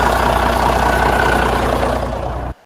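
A Detroit 12.7 or 14 liter diesel in a used sleeper semi truck runs with a steady, loud low rumble close by, then cuts off abruptly at the end.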